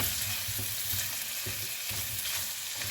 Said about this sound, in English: Let this sausage cook up.